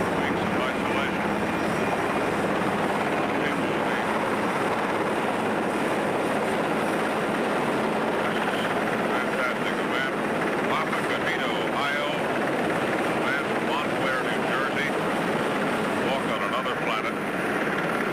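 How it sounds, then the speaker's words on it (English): Steady, loud helicopter rotor roar throughout, a continuous droning wash of engine noise with no letup, during the Apollo 11 splashdown recovery. "here goes helicopter 66 down to the hangar deck"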